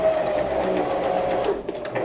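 A sewing machine stitches a French seam in tulle, its steady, continuous mechanical whir running close and loud for about two seconds with a brief dip near the end.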